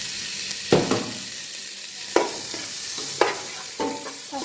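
Spices frying with tomatoes for a Sri Lankan crab curry give a steady hiss, broken by four sharp clanks of a spoon stirring against the pan.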